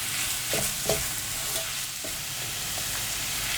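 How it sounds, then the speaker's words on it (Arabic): Chicken pieces frying in a pan for a quiche filling, giving a steady close sizzle with a few brief stirring clatters and scrapes throughout. "من بعد ما بدا يتشحر لنا الدجاج"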